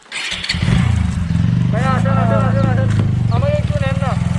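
A motorcycle engine rumbles loud and close on a hill road in Bangladesh, idling and revving steadily throughout while people talk over it.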